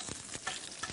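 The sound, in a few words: star anise frying in a pan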